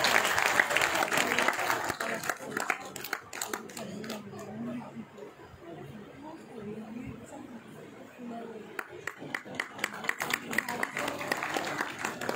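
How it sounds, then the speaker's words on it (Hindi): An audience breaks into applause to welcome a guest at an event, scattered clapping swelling and fading across the room with camera shutter clicks and murmured chatter underneath. "एक बार आप तालियां बजा करके उनका स्वागत करें।"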